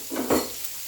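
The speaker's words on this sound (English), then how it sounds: "I'm going to use frying pan to fry all of them." A brief, soft sizzle of party fried rice frying in a frying pan, with a quick stirring scrape in the middle.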